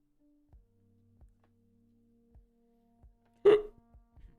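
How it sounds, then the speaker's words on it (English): Hiccups from a person during a live day-trading session: a few soft, evenly spaced body jolts followed by one sharp, louder vocal hiccup near the end, close and otherwise quiet. "I have hiccups."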